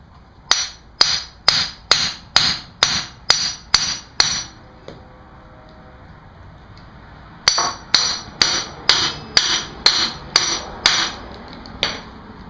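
A hammer strikes a Mossy Oak knife blade in two quick bursts of about ten sharp metallic blows each, separated by a brief pause, loud and close.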